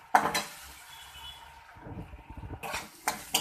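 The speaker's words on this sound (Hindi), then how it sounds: "मसाला फ्राई हो चुका है।" Masala fries in a pan while a utensil stirs it, a soft sizzle under scraping and clinking, with bursts of stirring at the start and end.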